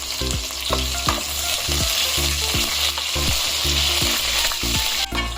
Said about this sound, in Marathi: तेल बघा आपलं चांगलं तापलेलं आहे आपण एक टाकून बघूया आता आपल्याला काय करायचं आहे कांदा घालायचा आहे